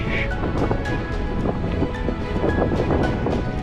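Steady wind blows across the microphone while cycling in Brittany, a continuous rushing roar with faint bursts of noise, no voices.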